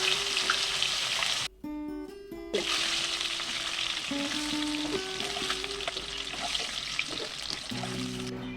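Hilsa fish pieces frying lightly in hot oil, a continuous close sizzle with bubbling, punctuated by a few ringing clinks and tonal bursts over the crackle, no talking.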